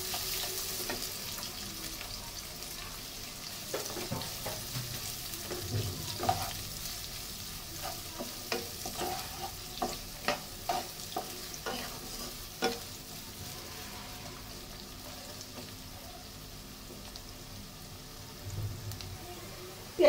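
Half a cup of chopped onions fries in hot oil for chicken pulao, a soft steady sizzle broken by scattered stirring clicks and scrapes from a utensil in the pan.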